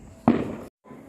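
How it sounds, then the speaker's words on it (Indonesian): A firecracker set off in front of a house during Diwali gives one close, sharp bang that decays into a brief crackling tail before a short silence, then faint background noise returns. "Ini sekarang kita lagi main petasan di depan rumah"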